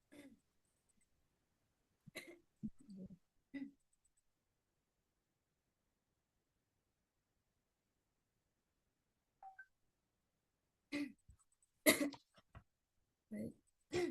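A woman with a hoarse throat gives a few short coughs in a quiet online meeting, in separate clusters with long silences between them.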